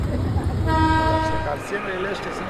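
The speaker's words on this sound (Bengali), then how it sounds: "একদম সাইড দিয়ে টয় ট্রেন যাচ্ছে।" A toy train passes close by on a hillside track in Kurseong, its horn sounding a brief tooting blast over the rumble of the train, heard near and fairly loud for a couple of seconds.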